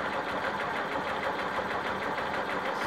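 A sewing machine running at a steady, fast rhythm while quilting matchstick stitching across a quilt row, a continuous mechanical whir with an even pulse, close and alone.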